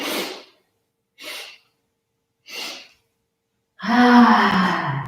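Three quick sneezes or sharp allergy sniffles spaced about a second apart, close and clear, then a longer, louder noisy burst of breath or nose-blowing at the end, during a seated senior fitness class.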